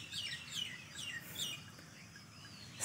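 A small bird trapped for two days under the wreckage of a large fallen tree gives faint, thin chirps in short bursts, soft against a low background hum.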